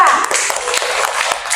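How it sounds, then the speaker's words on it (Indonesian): A primary-school classroom bursts into applause for a discussion group: a steady, dense patter of many hands clapping close by for about a second and a half. "Kita aplaus dulu untuk kelompok 2"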